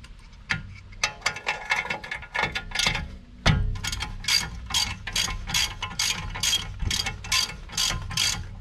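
An 11mm H11 caliper bolt spanner works loose the brake caliper bolts on a Mercedes W166 ML350, giving quick, close, repeated metallic ratcheting clicks in irregular runs.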